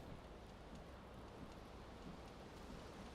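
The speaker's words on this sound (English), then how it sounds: "Can I turn the faucet off?" Running bathtub faucet in the video game Disco Elysium, a steady, even splashing hiss of water that stays constant and fairly faint throughout, with no talk over it.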